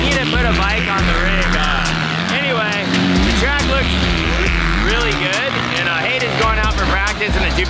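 Dirt bike engines whine and rev in rising and falling bursts on a motocross track, with several 250cc machines working through the throttle at close to mid range, all under steady talk.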